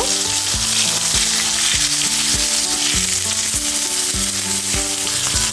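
Koi fish fries in a pan of oil, a loud, steady hiss and sizzle that runs throughout beneath prominent rhythmic background music.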